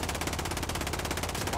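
Rapid automatic gunfire from a first-person shooter video game rattles nonstop at close range, loud and dense throughout with no voices over it.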